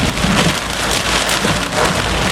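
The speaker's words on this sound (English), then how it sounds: "Right now there is very heavy rainfall." Very heavy rain pours down during a Florida thunderstorm, a loud, dense, unbroken hiss of drops drumming on surfaces close by, with no voices.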